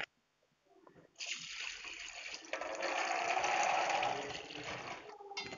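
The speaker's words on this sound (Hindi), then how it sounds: "अब इसको हम स्ट्रेनर में छान लेते हैं।" Water from soaked peanuts and chana dal draining through a strainer, a steady rushing pour that starts after a quiet moment and continues strongly, with a brief dip near the end.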